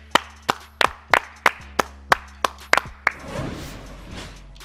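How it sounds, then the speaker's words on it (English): Hands clap in a steady rhythm to close out a sports talk podcast episode, about ten sharp, fairly loud claps with a quick double near the end, trailing into a soft rustle and room noise. "Clap it up."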